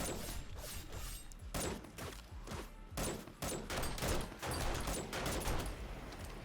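Dart traps firing in the 7 Days to Die video game, heard as clattering mechanical bursts and sharp impacts in irregular clusters at moderate, fairly distant loudness, with no voices.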